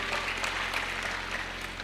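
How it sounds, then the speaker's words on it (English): Audience applause fills a hall at a Katsina State youth opportunity summit: a steady, dense wash of clapping that holds at an even level throughout with no pauses. "So we should give Umar a round of applause, please."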